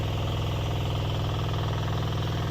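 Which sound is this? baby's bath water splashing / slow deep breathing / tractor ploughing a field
tractor ploughing a field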